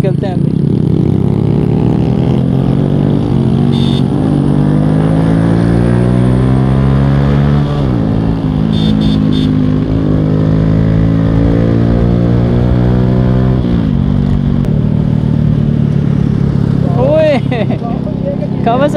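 A Kawasaki motorcycle rides along a road, its engine droning loudly and steadily, with rising and falling pitch as it shifts and accelerates, and a brief rattle near the end.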